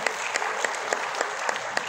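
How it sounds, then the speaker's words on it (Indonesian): An audience applauds at a health talk, a brief, steady burst of many hands clapping with sharp individual claps standing out against the dense patter. "Sekali lagi boleh tepuk tangan."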